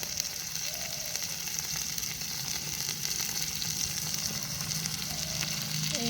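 Turmeric and spices frying for curry in a pan, a steady close sizzle with faint stirring scrapes running throughout, no talking.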